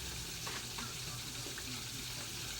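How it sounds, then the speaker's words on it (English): Water runs steadily from a kitchen faucet as hands are washed at the sink, a continuous close hiss with faint splashing and no talk over it. "And now I'm going to wash my hands off."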